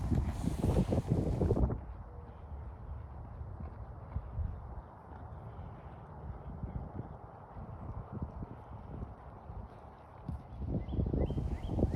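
A young event horse named Bailey moves through jumping training, with rhythmic hoofbeats thudding on footing amid wind buffeting the microphone, the strides louder at the start and end.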